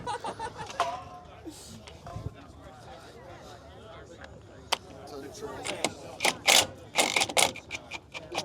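At a Time Attack paddock at Cadwell Park, a power tool fitted with a bit tries to undo a stubborn fastener, giving short rattling, grinding bursts that cluster toward the end amid people talking nearby.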